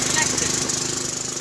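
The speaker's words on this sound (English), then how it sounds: "The lawnmower runs on methane, which means it should run on biogas." A lawn mower engine running on methane biogas chugs in rapid, regular pulses, a near and steady rattling putter with faint voices underneath.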